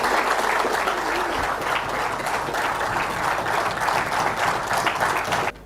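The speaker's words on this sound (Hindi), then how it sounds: "तो तालियां बजाते रहना चाहिए।" Applause from an audience at an LIC insurance gathering in India, a thick sustained roar of many people clapping, loud and even throughout before cutting off abruptly at the end.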